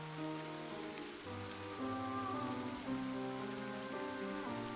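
Steady rain falls in the video game Ender Lilies, a continuous soft patter with a tonal music bed running beneath it and no speech.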